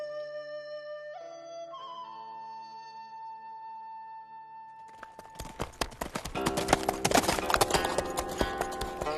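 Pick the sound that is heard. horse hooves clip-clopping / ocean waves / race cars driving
horse hooves clip-clopping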